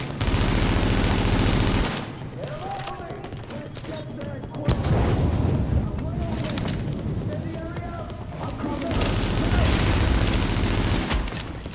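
Gunfire in The Division video game comes in loud, dense automatic bursts, one at the start, another midway and a long one near the end, with players shouting over the shooting in between.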